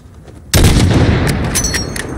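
A single sharp gunshot at a target in Call of Duty Modern Warfare bursts out after half a second of quiet, loud and close, leaving a rumbling tail with faint chatter.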